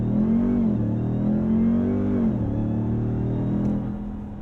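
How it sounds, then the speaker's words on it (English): A 2022 RAM TRX pickup launches hard with a loud, close engine roar that holds steady, briefly dips twice as if shifting gears, and then eases slightly toward the end. "I'm then gonna pin the throttle, hold it,"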